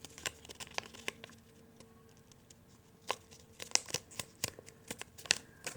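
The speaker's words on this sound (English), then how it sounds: "Fold the other side inwards." Paper being folded and creased by hand for an origami heart, faint crisp crinkles and soft taps close up, sparse at first and then busier near the end, with no talking.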